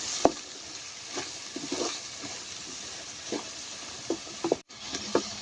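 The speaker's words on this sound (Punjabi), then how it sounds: "ਸਾਰੇ ਮਸਾਲੇ ਨੂੰ ਕਰ ਲੈਣਾ ਚੰਗੀ ਤਰ੍ਹਾਂ ਮਿਕਸ ਤੇ ਭੁੰਨ ਲਾਂਗੇ" Garam masala, red chilli and green chillies being stirred and roasted in a pan for homemade dal khichdi, with a steady low sizzle under repeated scraping strokes of a spoon against the pan, no voices.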